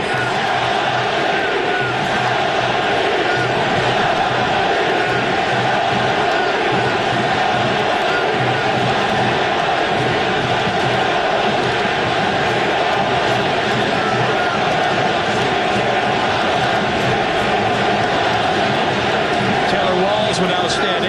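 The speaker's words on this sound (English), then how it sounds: "We heard the crowd go silent and now getting very loud at the Coliseum" A big baseball crowd at the Coliseum roars loudly and steadily, a dense wall of cheering and noise with a broadcaster's voice talking over it.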